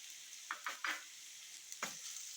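Eggplant masala for a spicy oil brinjal curry, salted and sautéed in a pan, with a low sizzle and a few quick scraping stirs close by in a short burst.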